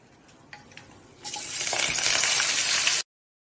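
Bunch of curry leaves dropped into hot sesame oil, starting with faint crackles then bursting into a loud steady sizzle that fills the pan for about two seconds before cutting off abruptly.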